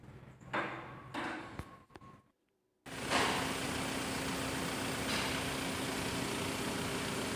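A transmission oil change machine runs on a Mitsubishi Pajero Sport during an automatic transmission fluid swap. After a few clunks and a brief silence, a steady mechanical hum with a faint tonal whine switches on and holds evenly to the end.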